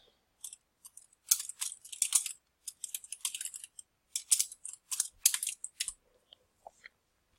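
Short bursts of typing on a computer keyboard while a new API key name is entered: quick, close, crisp key clicks in irregular clusters with brief pauses, no talking.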